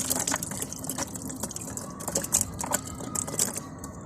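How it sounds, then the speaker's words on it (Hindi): Garlic cloves rubbed together by hand in a bowl of water to loosen the papery skins, giving close, continuous soft splashing, sloshing and trickling with small drips, no voices. "ऐसे करके लहसुन को हमने मलना है पानी के अंदर ही।"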